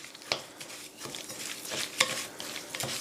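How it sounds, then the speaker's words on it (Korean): Salt is stirred into raw oysters with a spoon for fermented oyster jeotgal, making soft wet squelches and clicks in an irregular rhythm, close and fairly quiet. "이거를요, 이렇게 잘 섞어주세요."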